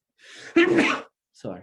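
A short, sharp sneeze in a classroom during an engineering lecture on area moment of inertia, preceded by a quick intake of breath, followed after a pause by a brief spoken apology.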